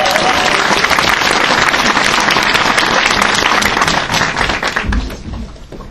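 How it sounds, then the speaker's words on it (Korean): An audience at an indoor company gathering breaks into loud, dense applause and cheering that holds steady, then thins out and fades near the end. "이분을 모실 때 여러분 큰 함성 박수 부탁드리겠습니다"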